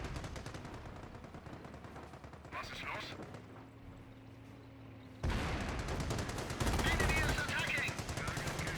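Machine gun fire in the Company of Heroes video game, dense rapid bursts that grow louder and heavier midway through, blended with other battle noise.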